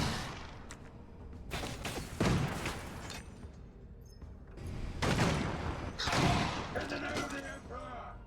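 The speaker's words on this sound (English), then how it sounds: "Let's take some long distance shots." Long-distance gunshots in Space Hulk Tactics, several loud bursts and booming impacts spaced across the stretch, with someone talking over and between them.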